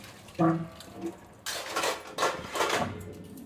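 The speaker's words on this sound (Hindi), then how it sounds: "हम बर्तन धुलने वाला है" Dishes, pots and pans being washed late at night, with a few clinking knocks followed by bursts of running tap water and scrubbing, close and moderately loud.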